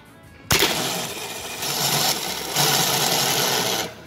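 A car starter motor spins free on a workbench, jumping to a loud, harsh mechanical whir that holds and rises in steps for about three seconds before cutting off.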